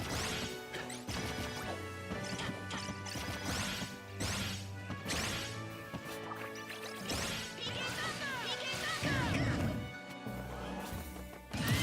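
Up smash attacks in Super Smash Bros. Ultimate, Lucas against an amiibo, land as repeated sharp crashing hits over dense game music and effects, loud and busy throughout.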